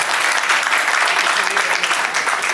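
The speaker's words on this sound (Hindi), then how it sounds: "एक बार जोरदार तालियां तो होनी चाहिए ना धनवंती जी के लिए।" Loud, dense applause from an award ceremony audience, continuous and steady throughout with no pauses or other voices standing out.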